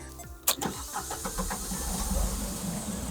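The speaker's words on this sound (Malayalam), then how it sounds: "അതായത് 3 4 ക്രാങ്കിൽ 3 4 റൊട്ടേഷനിൽ വണ്ടി സ്റ്റാർട്ടായി." A Chevrolet Beat diesel engine cranks briefly with a sharp starter burst, catches within a few rotations and settles into a rough, rhythmic diesel idle, heard close and alone.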